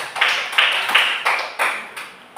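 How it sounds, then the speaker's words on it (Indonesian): Students in a classroom clap for a group in a rhythmic, patterned burst: about seven sharp, evenly spaced claps in quick succession, moderately loud and with no talk over them. "Tepuk tangan untuk kelompok 2."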